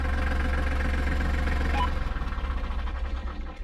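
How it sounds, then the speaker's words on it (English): A tractor engine idles close by on a trail beside a horse, a steady low rumble that settles into a slower, pulsing chug toward the end, with no talking over it. "now that we're standing still, Gookie doesn't find the tractor so bad anymore"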